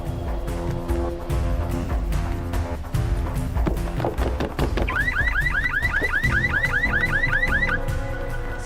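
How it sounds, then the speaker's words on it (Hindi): Car alarm of a green Volkswagen going off, a loud repeating electronic whoop cycling rapidly over busy street and movie-score background noise. "वो गाड़ी का अलार्म बज रहा है।"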